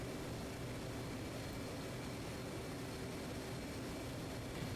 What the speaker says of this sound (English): I'm using the air brake now to try to help maintain that 250 knot airspeed